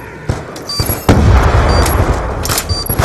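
A grenade goes off in Black Ops 2 on the Slums map, a heavy boom that rolls into sustained battle noise and scattered gunfire, loud and close, with no talk over it.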